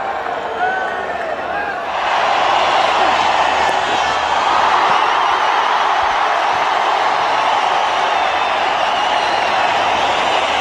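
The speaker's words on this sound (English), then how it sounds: "Unflinching support from the crowd. Every run cheered." A crowd at a 2004 India versus Australia cricket Test in Bengaluru breaks into loud, sustained cheering that swells and holds steady, a dense wash of distant voices filling the stands.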